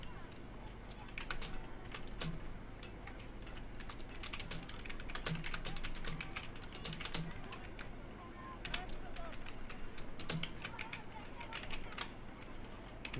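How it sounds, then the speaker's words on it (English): Continuous computer keyboard typing with dense, heavy keystrokes, steady and fairly close, with faint background voices now and then. "What kind of keyboard do you have? It sounds like you're tub thumping."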